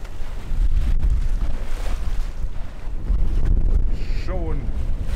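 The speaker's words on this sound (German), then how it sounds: "Schön die Bö kommen." Strong wind gusts buffet the microphone on a sailboat on an ocean crossing in French Polynesia, roaring low and swelling in waves, with water rushing nearby and a brief whistling tone near the end.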